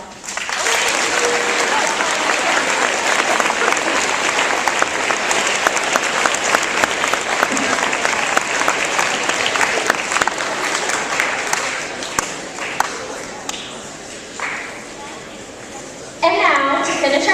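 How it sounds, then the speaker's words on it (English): A school audience at a patriotism lyceum for a state representative breaks into loud, dense applause that carries on for about twelve seconds, then thins and fades before a voice starts talking at the end. "Let's please give another round of applause."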